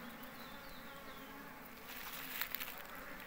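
Honey bees at a hive hum in a steady, faint, continuous drone with no voices.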